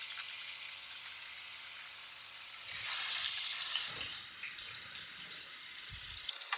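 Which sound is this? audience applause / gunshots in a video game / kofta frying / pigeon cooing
kofta frying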